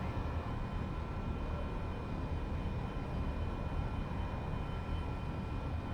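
A simulated airplane in flight in X-Plane Mobile, with a steady, continuous engine drone and wind roar at an even level throughout and no breaks.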